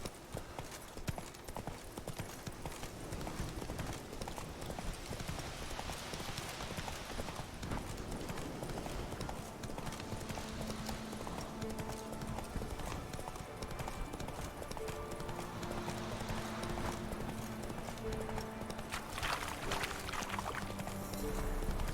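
Horse hooves galloping in The Witcher 3, a continuous rhythmic clip-clop carrying through the whole stretch at moderate level, with faint game ambience underneath.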